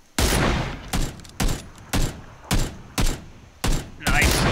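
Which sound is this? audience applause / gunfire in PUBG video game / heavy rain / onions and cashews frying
gunfire in PUBG video game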